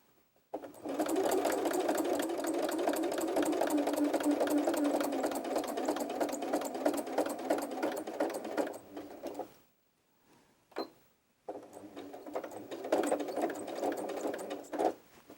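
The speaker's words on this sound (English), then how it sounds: "we're going to double over the seam where we started with a back stitch." Sewing machine back stitching over a seam while making a fabric baby bib: a steady, close mechanical whir runs for about nine seconds, stops, gives a brief burst, then resumes.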